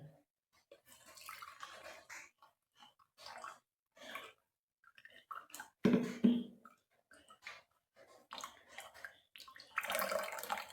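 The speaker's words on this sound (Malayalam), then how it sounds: "1 ഗ്ലാസ് വെള്ളം ചേർക്കുന്നുണ്ട്." A glass of water is poured into a grinder jar of finely chopped durva grass. It comes as close, intermittent bursts of splashing and gurgling, with a louder rush near the end.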